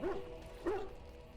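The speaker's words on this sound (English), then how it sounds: "That dog! Mangy mongrel." Dog barking in the fantasy role-playing game Dragon Age: Origins: two short yipping barks about half a second apart, close and moderately loud over a low background hum, with no talk.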